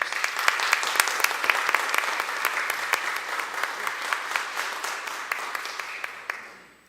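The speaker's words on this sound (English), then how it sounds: "Let's give him a round of applause." A room applauds a NASCAR Weekly Series National Champion with steady, moderately loud clapping from a modest gathering, individual claps distinct, tapering off at the end.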